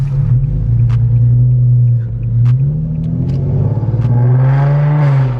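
Car engine fitted with a test pipe exhaust, revving hard outdoors near a house, producing a loud, deep, steady rumbling drone that swells and falls through several throttle blips and climbs toward a raspier, higher note at the end.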